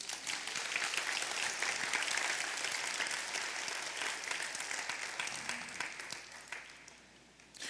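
Church congregation applauding, a full, sustained burst of clapping from many hands that holds steady and then tapers off toward the end.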